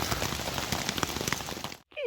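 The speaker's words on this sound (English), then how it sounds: "we waited out the rain" Steady rain patters on and around a hiking tent on the Appalachian Trail in the morning, a dense even hiss that stops abruptly near the end before a brief faint sound.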